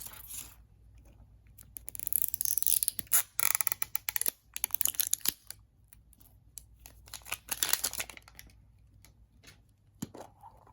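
Plastic packaging of a Stitch collectible figure being torn and crinkled open by hand, a run of close, loud rustling bursts and crackles that flare and pause over several seconds before settling.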